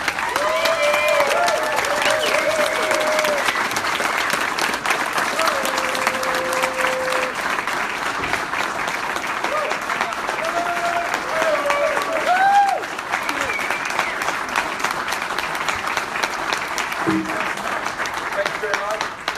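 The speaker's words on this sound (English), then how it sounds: "Clap your hands." Sustained audience applause welcoming Grant Cardone at a live keynote, dense, loud and continuous throughout, with occasional whoops and voices mixed into the clapping.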